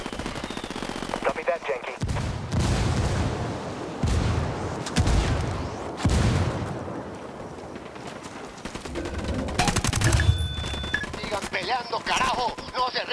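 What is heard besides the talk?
rebel gunfire in video game Ghost Recon Wildlands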